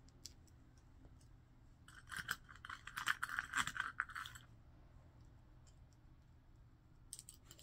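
Light plastic clicks and snaps cluster together for a couple of seconds, then a few faint clicks later, in an otherwise quiet room.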